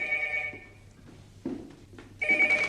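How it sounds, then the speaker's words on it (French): Telephone ringing in a rural French gendarmerie: two rings of a bell-like electronic tone, with a short gap between them and a quieter stretch holding faint thuds in the middle. "Téléphone, chef."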